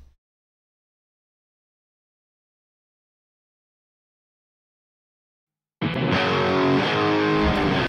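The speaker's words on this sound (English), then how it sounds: "I have 4 guitars during the intro and chorus and 2 during the verse parts." Four layered distorted electric guitars crash in after a long silence, forming a thick, loud, saturated wall of chords for the last couple of seconds.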